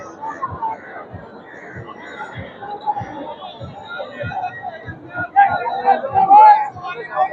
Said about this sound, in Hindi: यहाँ पे काफ़ी ज़्यादा भीड़ है।